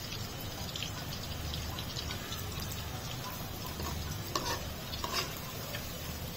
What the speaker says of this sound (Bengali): আস্তে আস্তে আমি মাংসগুলোকে দিয়ে দিচ্ছি।